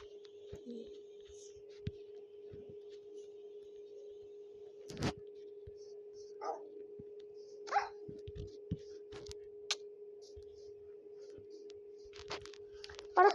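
Wolf from the video game Minecraft, a few short, sharp yelping barks scattered over a steady electronic hum, fairly faint with quiet gaps between them.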